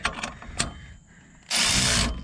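Wrench snugging bolts on a dual shock steering stabilizer on a Dodge Ram: a few sharp metallic clicks and scrapes, then a loud sustained burst of ratcheting or grinding at close range near the end.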